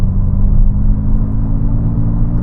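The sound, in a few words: Honda Super N car accelerating 40 to 70 in boost mode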